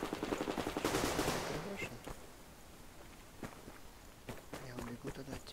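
Gunfire in the online shooter Survarium comes as a dense, loud rattle of shots during the first two seconds. Sparse single reports and footsteps follow, and player voices are heard in the background.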